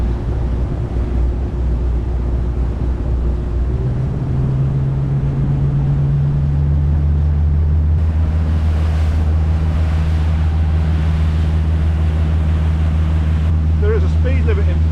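A motorboat engine drones steadily and loud across Plymouth Sound at about 20 knots, its pitch shifting as it picks up speed, with wind and water noise around it.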